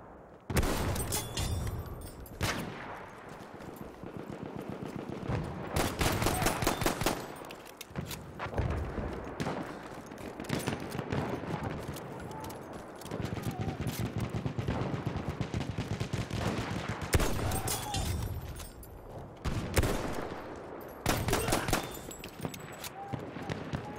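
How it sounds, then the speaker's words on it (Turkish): Machine gun fire in the Battlefield 1 beta, Rush mode on defense, with dense, continuous bursts of rattling shots and distant blasts filling the whole stretch while a voice speaks faintly underneath. "Orada bir makinalı tüfek var."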